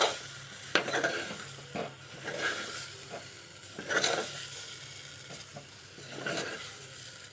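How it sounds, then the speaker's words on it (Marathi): Eggplant is sautéed and stirred in a pan for Malvani-style vangyache bharit, with a steady close sizzle and repeated scraping and clinking of the spatula against the pan. "आता यामध्ये आपण ही वांगी घालून घ्यायची आहे आणि तीही छान परतून घ्यायची आहे"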